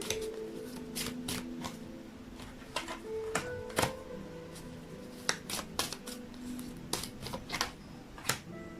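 Tarot cards handled and shuffled up close, a busy run of crisp flicks, slaps and riffling snaps at irregular intervals over a soft rustling bed, without talking.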